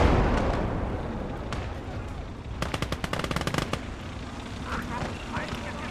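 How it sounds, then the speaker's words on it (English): Anti-personnel mines go off in a World War II Fall of France strategy video game, a rapid string of sharp cracking blasts in the middle of the clip over a continuous background rumble of battle. "Sounds like anti-personnel mines going off"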